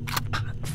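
Weapon reload in the horror video game Cry of Fear, three quick mechanical clicks and slides in under a second, close and crisp, with no talk over it.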